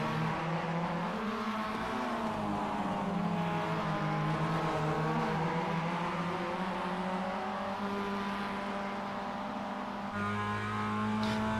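Race car engines in the iRacing ChampCar series at Adelaide, a continuous loud droning engine note that dips and shifts in pitch as drivers lift into the turn 9 hairpin, then rises again near the end.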